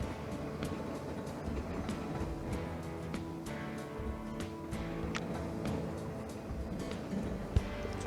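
A train in the video game Train Station 3 rumbles steadily along with low mechanical droning and occasional clanks, continuous throughout with no voices.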